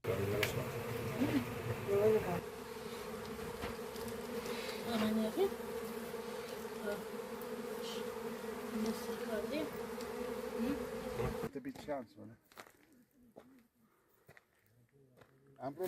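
Honeybees buzz around hives set on the wooded slopes of Türk Mountain, a steady close droning hum with faint outdoor ambience, fading to near silence toward the end.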